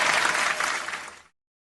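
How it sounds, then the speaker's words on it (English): A live-show audience gives a dense round of applause that rings steadily, then cuts off abruptly into silence. "Give us a round of applause"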